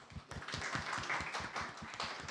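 A studio audience applauds a guest at a Brazilian business talk on dropshipping and paid traffic, a dense, steady patter of many hands clapping at close range with no voices over it.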